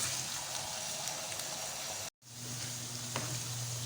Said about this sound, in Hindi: अच्छे से हम इनको फ्राई करेंगे।